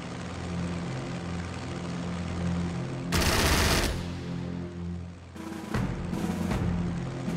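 Aircraft strafing with machine guns in the Strategic Mind: Spectre of Communism war game. Several short, loud bursts of rapid fire cut over a steady propeller engine drone, with the longest burst first and quicker bursts after it.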